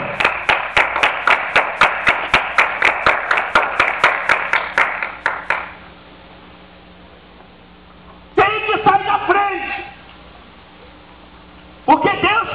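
A church congregation claps in a fast, even rhythm of about twenty sharp claps, then falls quiet before a voice speaks in bursts.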